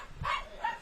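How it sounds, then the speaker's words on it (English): A household dog lets out two loud, boisterous barks in quick succession, close by, the second slightly shorter than the first. "that loud, boisterous bark"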